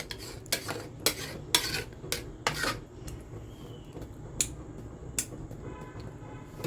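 A spoon stirring boti kabab mixture in a metal pot, producing a series of sharp, irregular clinks and scrapes against the pot walls, close and fairly clear over a quiet kitchen background.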